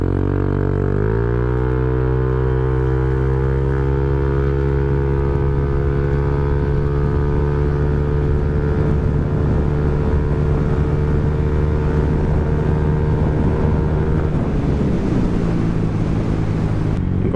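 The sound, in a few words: Honda Click 160 scooter accelerating in 0-100 test run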